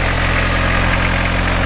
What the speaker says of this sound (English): Ah, listen to that rod rattle. It's a bit tappy.